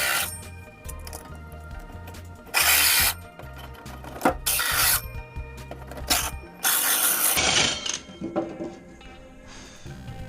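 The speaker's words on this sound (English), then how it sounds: "if you just drill right through with a hole saw on a piece of wood like this" A hole saw grinds through a piece of wood for a boat subfloor, heard as a droning motor punctuated by loud, harsh rasping bursts as the teeth bite, close up, with no talk.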